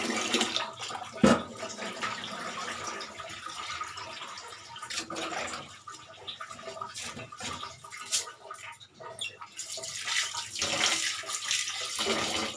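Rice is rinsed in water in a home kitchen, with splashing, swishing and trickling sounds that rise and fall unevenly at close range, with no talking.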